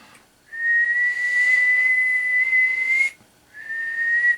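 A steady whistled tone is sent into the microphone of a Blackcat JB-76B two-tube base radio on the bench, one long sustained note followed by a brief pause and a second shorter whistle, loud and clear with no talk.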